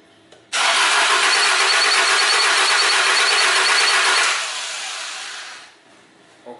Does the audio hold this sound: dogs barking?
no